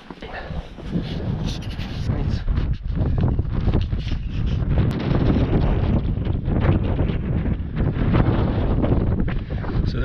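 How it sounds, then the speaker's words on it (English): Strong wind gusting across a mountainside on the Pyg Track up Snowdon in Snowdonia on an evening hike, a loud continuous roar buffeting the microphone throughout with no break. "so the wind's starting to pick up a bit now."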